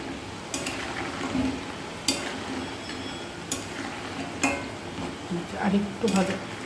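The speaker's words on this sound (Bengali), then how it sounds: "একটু সময় নিয়ে ভাজতে হবে, তাহলে গজাটা মচমচা হবে।" Gaja sweets fry in hot oil while being stirred, a continuous bubbling sizzle broken by several sharp metallic clinks of a spatula against the pan, at close range.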